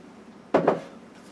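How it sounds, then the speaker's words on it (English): A spoon knocks twice in quick succession against a pan as chocolate chips are stirred into thick fudge, two short close clunks followed by quiet, with no talking. "just keep stirring until everything is completely mixed and smooth"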